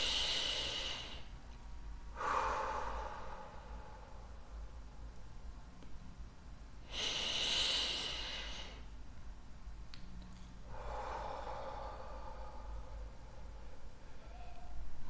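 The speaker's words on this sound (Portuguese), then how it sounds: "faça 3 respirações lentas e profundas, inspirando pelo nariz e expirando pela boca" Four slow, deep breaths, each drawn in audibly through the nose and let out through the mouth, close and unhurried in a quiet room, with pauses between.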